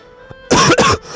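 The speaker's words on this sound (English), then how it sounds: "I really am coughing from being sick a few days ago." A person who is sick from illness coughs twice in quick, loud, harsh succession at close range.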